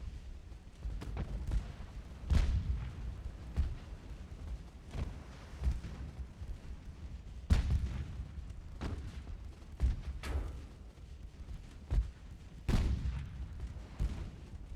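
Naval guns fire in Ultimate Admiral: Dreadnoughts, with 12-inch, 6-inch, 5-inch and 4-inch batteries mentioned, producing scattered low booms and thumps at an uneven pace, distant and fairly faint, with no talking.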